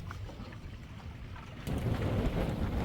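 Wind gusting around a sailboat flying a jib in heavy gusts, a steady rush that swells into a louder, fuller gust partway through, with buffeting noise on the microphone.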